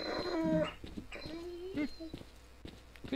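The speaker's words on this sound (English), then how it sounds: "Dogs, I'm just gonna walk past casually." Mutant dogs in the S.T.A.L.K.E.R. Call of Chernobyl game whine and yelp in several short rising cries over a few seconds, with footsteps and someone talking over them.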